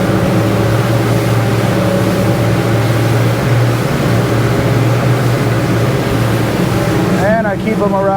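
Twin outboard engines on a powerboat cruising at sea on a solo run from Exuma to Miami, a steady loud drone with constant water rush and a brief warbling tone near the end.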